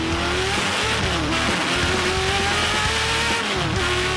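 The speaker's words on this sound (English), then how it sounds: "Okay, Tony, get a little heat in those tires, and when it's time to go, get it on" Race car at speed on the Portland track, with a loud, continuous engine note rising and falling through gear changes and acceleration, heard close with no talk.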